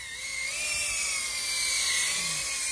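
A drone flies close by, giving a steady, loud, high-pitched whine that keeps going for the whole stretch with only slight shifts in pitch and no voices.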